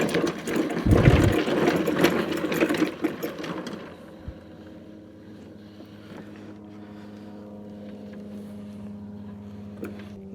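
A John Deere lawn mower engine, running after a welding repair, clatters loudly and unevenly at first, then settles into a quieter, steady idle hum for the rest of the stretch, with no talking.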